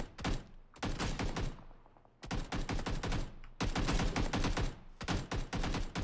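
Rapid automatic gunfire in the battle-royale game PUBG, several loud bursts of shots with brief pauses between them, close and dominating the mix.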